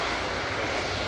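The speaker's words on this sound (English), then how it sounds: "Air Transat taxis by" An Air Transat airliner taxis at Manchester Airport, giving a loud steady broadband jet engine roar that holds even and close throughout, with no voices.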